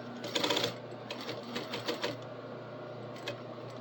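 Close, loud sewing machine stitching fabric in short runs, with brief pauses between bursts of rapid needle clatter over a steady motor hum.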